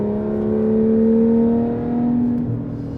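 A Porsche 991.1 GT3 RS flat-six holds around 4,500 RPM, a loud, smooth droning engine note close by that swells slightly and then eases off over a few seconds.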